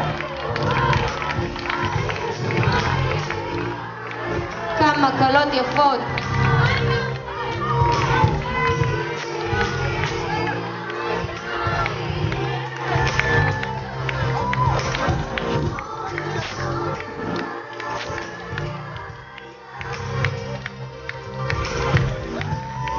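Crowd noise at a beauty pageant, with cheering and scattered clapping over music, voices rising and falling throughout; a person speaks briefly amid the din.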